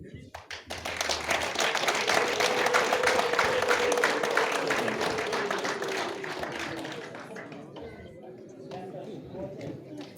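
Wedding guests clap and cheer in a crowded, lively hall, a dense sustained wash of applause with voices mixed in that gradually fades and thins toward the end.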